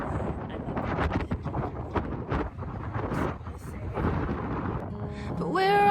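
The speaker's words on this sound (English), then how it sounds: "And it's super windy today." Gusty wind in Rotterdam, Netherlands buffets the microphone with low rumbling bursts, and a faint tonal whine rises near the end.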